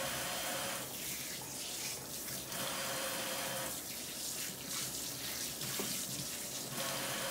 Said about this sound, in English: So let me rinse this roast off.